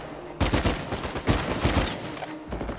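Rapid bursts of blind-fire gunshots in Uncharted 4, a sharp loud volley of several close shots with brief pauses, over game background noise.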